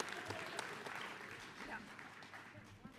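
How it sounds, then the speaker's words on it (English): A small indoor gathering at an Oxford House offers quiet applause for someone's costume, a faint scattering of claps mixed with voices and room murmur. "let's have another round of applause for that"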